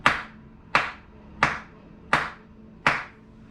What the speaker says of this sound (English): I'm going to clap as well.